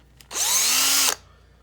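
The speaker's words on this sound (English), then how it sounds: "ran it up in the chuck of the drill on a low setting" Power drill on a low setting spinning a halved Q-tip in its chuck, a single whirring burst just under a second long, close and fairly loud, starting and stopping abruptly.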